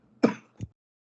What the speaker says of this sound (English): Apologies for the coughing there, everyone.